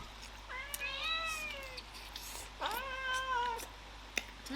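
A house cat gives two clear, drawn-out meows, close and fairly quiet, separated by a short pause, over a faint steady hum in an indoor room.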